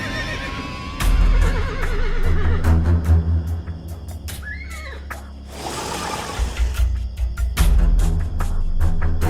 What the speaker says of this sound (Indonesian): tiba-tiba mereka mendengar suara ringkikan kuda